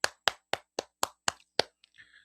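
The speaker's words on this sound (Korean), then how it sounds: "박수 부탁드릴게요" About seven sharp, evenly spaced hand claps sound close and alone, like a single person clapping rather than a full audience. They welcome the guest of an online healing talk show, and a short faint voice follows.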